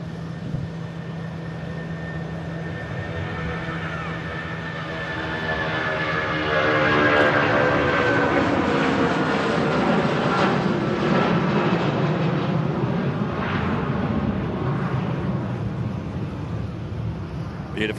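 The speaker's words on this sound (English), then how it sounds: "Here goes the Jet 757, heading out to Naples." Boeing 757 jet departing Manchester Airport, its steady engine roar building and swelling to a loud, sustained rumble with a whining tone sliding through it, continuous throughout.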